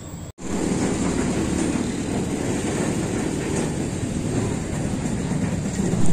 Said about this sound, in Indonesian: Kereta api Parsal Selatan ditarik oleh dua lokomotif CC201, kali ini menuju ke arah barat